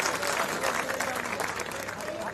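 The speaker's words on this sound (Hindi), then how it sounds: "उनके लिए मैं जोरदार तालियों की गड़गड़ाहट से स्वागत चाहता हूं" Crowd applauding at an outdoor political rally in Haryana, a brief, dense roar of many hands clapping, fairly distant and steady with some crowd noise mixed in.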